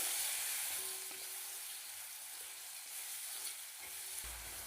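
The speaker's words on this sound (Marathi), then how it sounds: "कमी गॅसच्या फ्लेमवर आपल्याला हा टोमॅटो तेलात चांगला परतून घ्यायचा आहे" Finely chopped tomato sautés in oil over a low gas flame for methi bhaji, producing a steady, even sizzle and hiss with faint occasional stirring, no voices.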